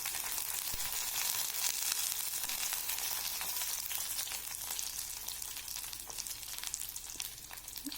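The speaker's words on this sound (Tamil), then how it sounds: "நாலு கருவேப்பிலை சேர்த்து நல்லா வணக்கி விட்டுருங்க" Curry leaves and onions sautéing in oil for Tamil cabbage kulambu, giving a steady, soft sizzle and crackle that runs on without a break, with the occasional faint stir.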